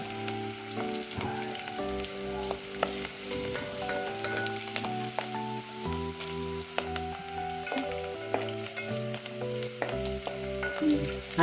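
Onions sauté in hot oil in a pan for a vegetable pulao, giving a continuous crackling sizzle that runs beneath steady tonal background music throughout.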